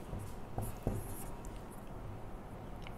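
A pen or pencil scratches on paper while a multiplication table is handwritten, steady soft strokes with a few sharper ticks, close and quiet with no talking.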